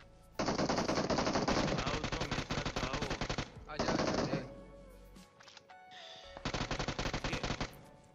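Rapid automatic gunfire in the battle royale game BGMI, loud sustained bursts of several seconds broken by brief pauses, with a short quieter mechanical stretch before a final burst.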